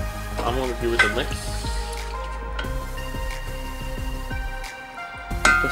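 Wet rice grains swish and scrape in a rice cooker pot as they are stirred with water, with soft sloshing and a faint clink, close by and steady.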